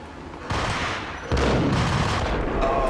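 Dual Ingram submachine guns firing in the video game Max Payne, a loud, dense burst of rapid automatic gunfire that swells in two stages and keeps up without a break.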